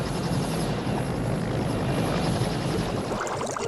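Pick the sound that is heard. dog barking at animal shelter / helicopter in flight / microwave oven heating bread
helicopter in flight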